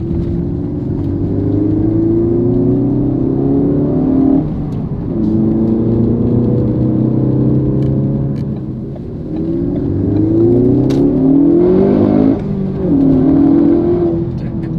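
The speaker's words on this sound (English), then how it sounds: "we're kind of bumping around here, but the tires are just taking these bumps and just going right over them" A Ford Focus ST on Firestone Firehawk Indy 500 tires rolls over a bumpy road, its steady engine drone and tire roar rising and falling with gear changes and thumps, heard from inside the cabin with no talk.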